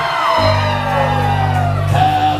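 A birthday-party crowd screams and yells together in a loud, sustained burst lasting a couple of seconds, close and dense.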